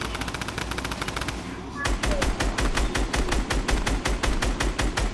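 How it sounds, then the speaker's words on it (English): Rapid automatic gunfire in an online team shooter video game, dense continuous bursts of loud shots filling the whole clip, with a brief pause near the start before firing resumes. "Somebody's shooting us from behind"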